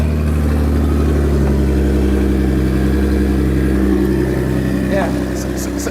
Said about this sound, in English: Listen, this is Nicklue's car.